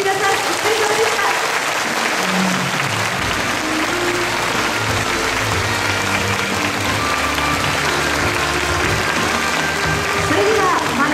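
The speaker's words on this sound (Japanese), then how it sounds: "ファイナリストの皆さんに今一度大きな拍手をお送りください。" Large audience at a flower design competition final gives the finalists sustained, loud applause, a thick wash of clapping that holds steady throughout with some voices and background sounds mixed in.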